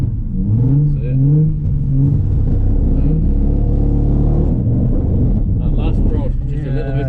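A Nissan 350Z engine revs hard and loud during a drift, with the pitch rising and falling as the throttle is worked, while a voice talks over the roar.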